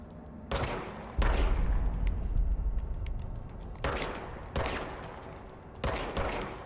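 Gunfire from a handgun in the third-person action game Control, several loud sharp bursts at irregular intervals, one heavy blast followed by a sustained rumble, then shorter reports near the end, with no talking.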